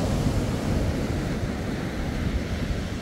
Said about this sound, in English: Beautiful ocean beside us.